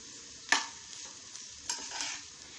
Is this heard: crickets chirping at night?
no